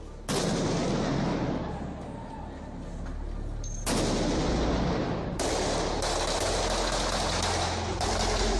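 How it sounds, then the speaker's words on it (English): Blank gunfire rounds crack and echo off downtown Miami high-rises, several loud sharp reports spaced a few seconds apart, each with a long reverberant tail rolling through the city streets. "some blank rounds of gunfire pinging off the high-rises here in downtown Miami"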